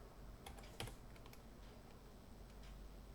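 Computer keyboard keys clicking in quick, irregular taps, one louder stroke standing out, all fairly faint and close with a low room hum beneath.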